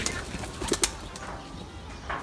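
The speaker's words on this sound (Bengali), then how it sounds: "গাইস, এই যে দেখেন কবুতরগুলো বের হচ্ছে।" Racing pigeons released from their loft, giving short bursts of flapping wings with soft cooing, close by and moderately loud.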